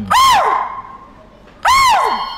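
A voice imitates the alarm call of a chital, or spotted deer, in the Tadoba forest: two sharp, high yelping barks about a second and a half apart, close and clear.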